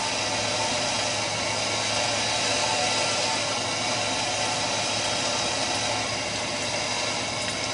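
A lawn mower engine in the Lawn Mowing Simulator video game runs with a steady, loud, unbroken drone throughout, with no voices.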